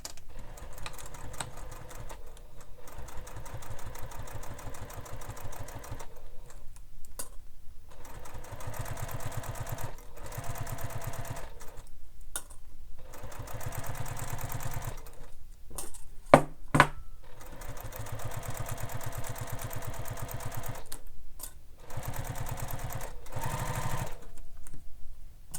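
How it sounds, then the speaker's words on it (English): A sewing machine stitches down one side of a bag strap end to end in close, steady mechanical bursts broken by several short pauses, with no talking. "So I'm going to go ahead and stitch down the one side of my strap."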